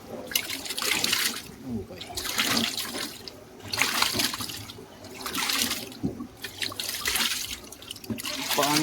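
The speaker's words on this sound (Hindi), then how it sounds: "गंदा पानी निकल रहा है." Dirty water gushes and splashes out of a blocked water line in repeated surges, each burst of loud rushing and gurgling followed by a brief lull, close to the recorder.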